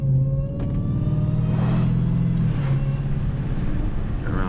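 An 1100-horsepower Dodge Charger Redeye Widebody on drag radials rumbles steadily from the driver's seat, a deep throbbing exhaust note with slight swells as the throttle changes.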